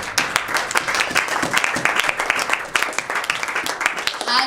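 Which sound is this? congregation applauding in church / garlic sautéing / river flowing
congregation applauding in church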